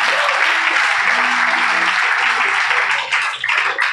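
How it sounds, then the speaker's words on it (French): A church congregation applauding, a loud, dense, continuous wash of clapping that carries on without pause and thins slightly near the end. "On acclame très fort le Seigneur"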